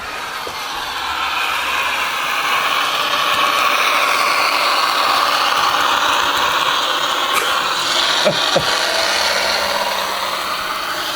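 Bachmann BR Class 55 Deltic 'Pinza' model locomotive playing its diesel engine sound, a loud steady mechanical drone that holds throughout with a few brief clicks near the end and no talk.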